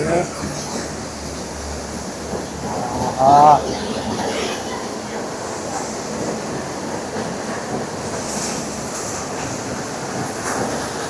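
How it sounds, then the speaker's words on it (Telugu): Hogenakkal Falls gives a heavy, unbroken rushing roar close by. A short whistle-like call cuts in briefly partway through. "ఇంత దగ్గరగా చూస్తాను అనుకోలేదు వాటర్ ఫాల్స్"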